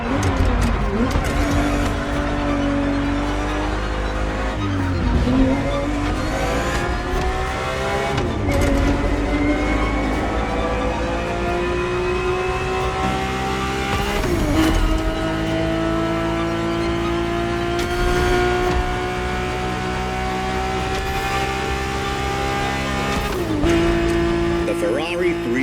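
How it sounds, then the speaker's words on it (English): A Ferrari 365 GTB4 in The Crew Motorfest snarls through repeated revving and gear shifts, its engine note rising and dropping between changes, with occasional tire squeal and a voice talking over the loud, continuous drive. "Ferrari 365 GTB4 is the perfect vehicle for you to experience Ferrari racing as it felt back in the 70s"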